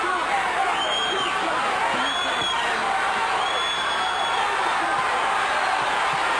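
A boxing arena crowd roars in steady cheering for Michael Nunn during the ninth round of his fight with James Toney, a dense sustained swell of voices with whistles rising over it and a commentator talking.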